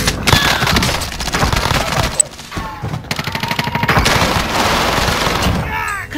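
Dense, sustained gunfire from the video game Warzone, rapid automatic bursts and thumping impacts packed across the clip, loud and continuous with a brief lull midway, and a voice speaking briefly underneath.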